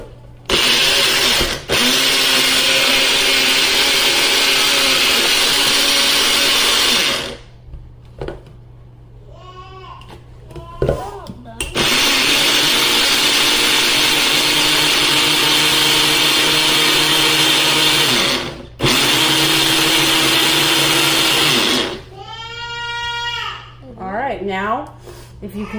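A blender grinds onion with minced garlic in long, loud, steady whirring bursts that stop and restart, with people talking in the pauses between runs.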